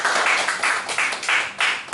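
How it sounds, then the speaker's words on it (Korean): A church congregation at Sunday worship claps together in a loud, steady rhythm of about two claps per second, with bursts of sound filling the hall and no voices heard. "하나님 영광 박수 드립니다."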